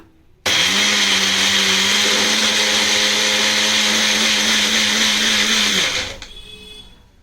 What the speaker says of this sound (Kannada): ಬನ್ನಿ ಈಗ ಮಿಕ್ಸಿ ಮಾಡ್ಕೊಳ್ಳೋಣ.